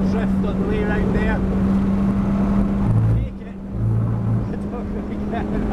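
A 2015 Honda touring race car on a fast lap of the Slovakia Ring drones loudly at high revs. The engine tone dips sharply as the driver shifts down for braking, then climbs again, while someone talks over it.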